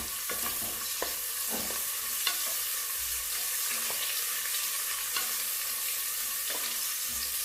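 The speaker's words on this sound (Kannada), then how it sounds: "ಇದನ್ನು ಎಣ್ಣೆಲಿ ಫ್ರೈ ಆಗಬೇಕು ಚೆನ್ನಾಗಿ ಈರುಳ್ಳಿ." Onions fry in oil for an egg biryani, giving a steady close sizzle. Occasional light clinks and scrapes from stirring in the pan sound over it.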